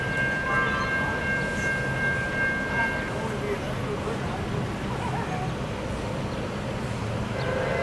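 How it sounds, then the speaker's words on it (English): A westbound MARC commuter train hauled by an MP36 locomotive arriving at Gettysburg, heard as a continuous broad rumble of rolling cars with a brief horn-like tone early on and faint voices in the background. "Mark P875, westbound 1, arriving at Gettysburg."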